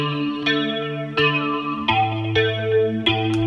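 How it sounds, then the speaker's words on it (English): A distorted, chorus-heavy electric guitar tone under a narrow EQ boost being swept, its timbre shifting oddly as the filter moves, with repeated plucked notes and chords about every half second to a second. "everything sounds weird when you sweep with a tight boost"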